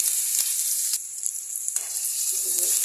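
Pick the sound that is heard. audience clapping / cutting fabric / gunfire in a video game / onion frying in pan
onion frying in pan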